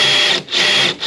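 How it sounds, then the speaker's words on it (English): Power drill boring a hole in the trunk of a Cobra car, two close, loud whirring bursts separated by a brief dip, with no speech. "So I'm gonna go ahead and drill the first one, and then we'll see if it fits."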